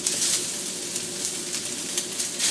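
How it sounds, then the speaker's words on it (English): Large pieces of ginger and garlic sizzle and crackle in hot oil in a pan, a bright, continuous hiss with small pops throughout, close and moderately loud. "Then you put in the aromatics, the ginger and garlic"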